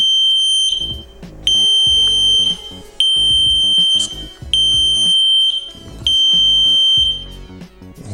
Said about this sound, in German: Sehr lautes Gepiepe